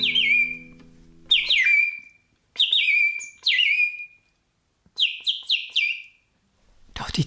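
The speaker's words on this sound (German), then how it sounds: "die Vögel begannen zu singen" Birdsong serves as a sound effect in a spoken fairy tale: clear, close whistled chirps come in several separate bursts with short silent gaps between them, and no talk runs over the calls.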